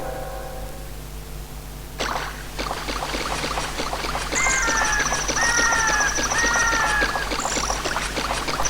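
Several bird calls in The Legend of Zelda: Ocarina of Time Master Quest ring out in repeated chirps and whistles over a steady background hum, with soft rhythmic tapping throughout.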